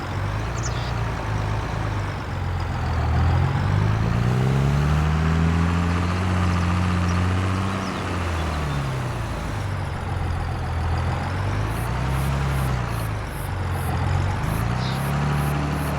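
A John Deere tractor engine runs continuously while clearing land, a loud, close, low diesel drone that rises and falls in pitch as it is worked, with a faint rhythmic clicking at times and no voices.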